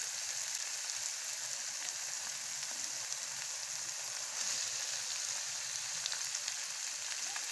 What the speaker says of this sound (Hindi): अब हम इसमें नूडल्स ऐड करेंगे जिनको हमने बॉईल कर लिया था।